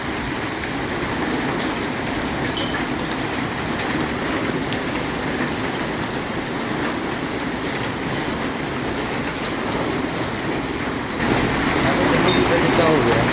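Dense, continuous pattering of heavy hail falling and striking surfaces in Punjab, a steady hiss that swells louder near the end, with a voice speaking over it.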